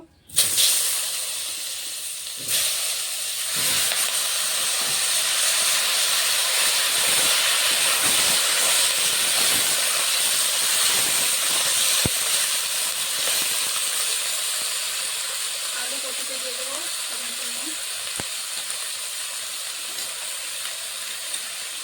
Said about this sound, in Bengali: এই তেলে আমি কপি আর আলুটা ভেজে নেব।